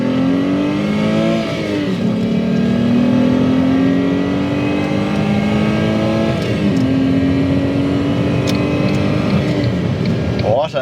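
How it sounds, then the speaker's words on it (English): Ford Mondeo ST220 with a 3-litre V6 revving hard on the move, the engine note climbing and falling through several gear changes, loud and close throughout. "Driving the Ford Mondeo ST220. Let's hear this 3-litre V6."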